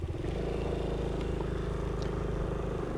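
Low, steady engine drone of a scooter turning slow, tight circles during slow-speed riding practice, a continuous idling-level hum held nearby for the whole moment without any speech.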